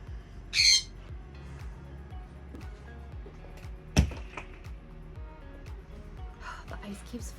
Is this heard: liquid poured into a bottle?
no